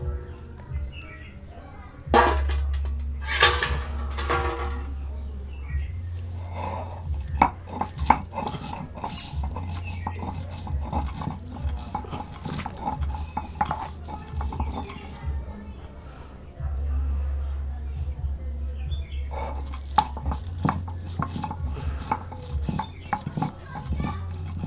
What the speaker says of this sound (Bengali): সর্ষে আর লঙ্কা বেটে নেব।